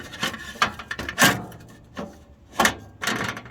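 A heat shield being set into an Asmoke AS350 portable pellet smoker gives a handful of close, separate clunks and knocks spaced irregularly, with quiet handling in between.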